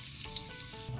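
Ginger sautés in hot cooking oil for ginataang galunggong, making a faint, steady sizzle with a light clatter, short and without voices.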